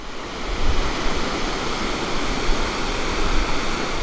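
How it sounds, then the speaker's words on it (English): The tall Rupse waterfall in Nepal on the Pokhara to Jomsom route roars as a dense, continuous broadband rush, loud and steady with no voices over it. "behind me is a very tall waterfall called the Rupse waterfall"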